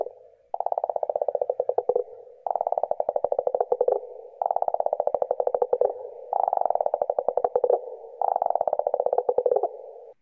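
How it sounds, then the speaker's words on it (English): Male insects calling at night, a near, loud series of rapid pulsing trills in five regular bursts separated by short pauses, with a steady lower buzz between them. "what you're hearing is male insects, or the boys, who are saying, "I'm here, come find me.""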